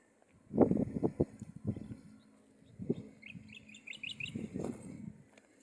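Small birds chirp in short, high trills, fairly faint and at a distance, mixed with voices and some low background noise, beside a road on a windy morning.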